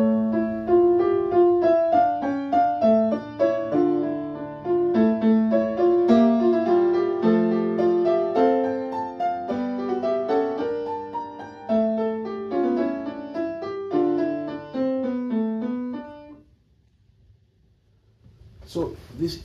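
Piano rendition of a fugue from Bach's Art of the Fugue, three themes interwoven in dense counterpoint, sounding steady and moderately loud for about sixteen seconds before it ends, followed by a short silence and then a soft noise.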